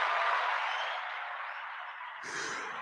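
Applause from a podcast crew fills the clip, a dense, steady wash of clapping that softens slightly midway, then picks up again toward the end.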